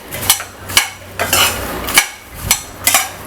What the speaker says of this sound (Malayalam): മത്തങ്ങയുടെ കുരു കൂടി ചേർക്കുകയാണ് ഞാൻ